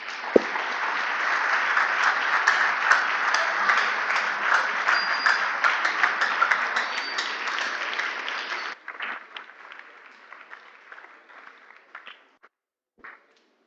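Loud, reverberant applause from an audience at a children's gardening and small animal rearing competition in Ghana, sustained for about nine seconds before thinning into scattered claps that trail off.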